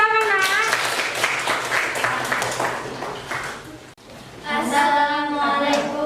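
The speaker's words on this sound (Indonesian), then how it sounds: "Kasih tepuk tangan" Class of students clapping in a school lesson, a brief burst of group applause that fades out, followed by a student beginning to speak.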